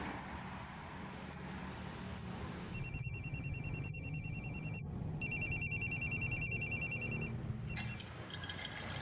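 A telephone ringtone chirps repeatedly in several bursts over a steady rumbling background of street or vehicle noise, moderately near and left unanswered.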